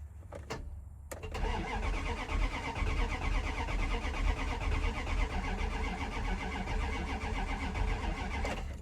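A truck engine on a weak battery cranks over steadily without catching, a loud, continuous grinding churn that begins after a couple of brief clicks and runs for several seconds.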